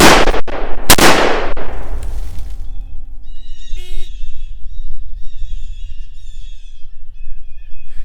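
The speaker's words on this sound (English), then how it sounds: "These are going to be 3 shots to the head of the target in a time limit of 6 seconds." M1 rifle shots fired at a target on an outdoor range: loud, sharp reports in quick succession at the start, ringing out and decaying into the open air, followed by faint ambient sounds and no talk.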